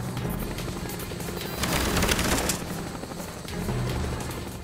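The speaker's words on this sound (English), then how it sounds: "The helicopter will kill you fucking faster than anything" A helicopter in the Call of Duty: Black Ops video game chops steadily overhead, its rotor wash swelling loud midway, mixed with distant gunfire and bursts of in-game combat noise.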